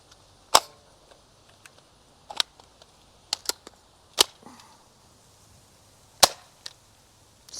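A Nerf Rival Knockout blaster fires foam rounds over a chronograph, giving sharp, isolated snaps spaced a second or more apart against a quiet room.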